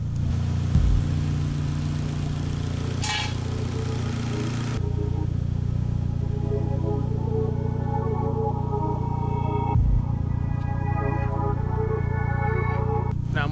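A built Mitsubishi Evo X engine idles steadily up close, a constant low rumbling drone with a slight shift in tone partway through, and no talking.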